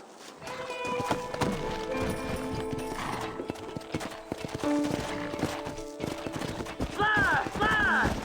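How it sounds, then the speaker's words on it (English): Rapid clip-clop of trotting horse hooves in the video game Red Dead Redemption over a busy, layered game soundtrack with music, a brief whinny-like squeal near the end. "Horses are over here!"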